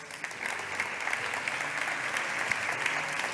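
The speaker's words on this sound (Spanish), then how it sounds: "Un fuerte aplauso." An audience applauds at a talk welcoming a colonel to speak on global geostrategy, a steady wash of many hands clapping at moderate loudness, continuous for a few seconds with no voices over it.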